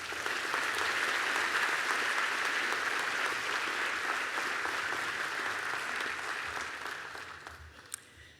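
Sustained audience applause in a hall welcoming a speaker at a Bond University graduation ceremony, steady and full for several seconds before tapering off toward the end.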